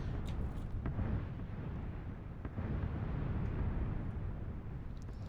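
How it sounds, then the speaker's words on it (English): Explosions go off in the red zone in PUBG, a video game, heard from the zone's edge as a faint, continuous distant rumble with a few soft thuds and no voices. "we're right on the edge of a red zone now, so we can kind of see all the explosions going down there"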